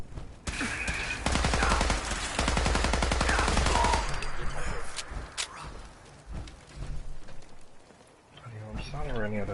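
Rapid automatic gunfire in Fallout 4, dense bursts of shots for several seconds, then scattered single shots and clatter, with a voice talking over parts of it.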